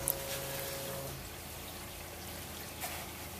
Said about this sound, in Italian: Si sta scaricando l'acqua della doccia all'interno del serbatoio completamente pieno.